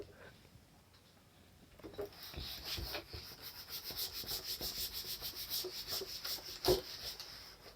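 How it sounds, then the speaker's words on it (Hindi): Dry rubbing strokes of an eraser wiping chalk or marker writing off a classroom board, a steady scrubbing texture that starts after a quiet moment and continues several seconds with one sharp knock near the end. "मिटा दे रहे हैं इसको।"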